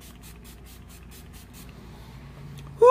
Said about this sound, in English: So we just want to spray that.